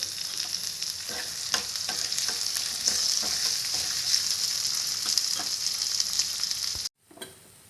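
Thinly sliced onions, green chillies and curry leaves fry in oil for a ridge gourd curry, making a steady close sizzle with scattered light scrapes of stirring before it cuts off abruptly near the end.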